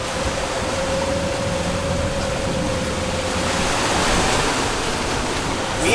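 A sailboat running under jib and mainsail at sea, with a steady, loud wash of water and wind rushing past the hull throughout and a faint tonal hum early on.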